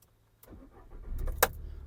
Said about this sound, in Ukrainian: Давайте запустимо двигун.